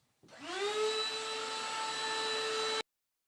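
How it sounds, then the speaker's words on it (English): A handheld dust buster vacuum cleaner switches on and runs with a steady, high, whining roar for about two and a half seconds, then cuts off abruptly; nothing else is heard. "if you don't have a vacuum cleaner at home, you can also use a dust buster just like this"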